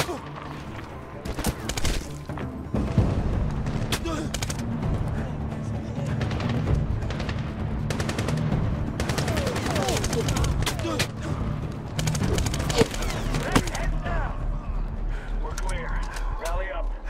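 Rapid gunfire from the Medal of Honor (2010) video game, dense, overlapping bursts of shots and heavy booms rattling almost without pause across the whole stretch, with voices mixed in at times.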